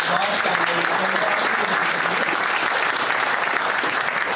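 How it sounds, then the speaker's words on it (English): A large crowd at a community gathering breaks into loud, dense, sustained applause, with cheers and voices mixed in throughout. "Give yourself a round of applause."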